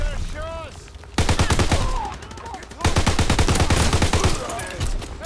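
Incendiary rounds fire in loud rapid bursts in a WW2 shooter game, with two sustained automatic volleys separated by a short pause.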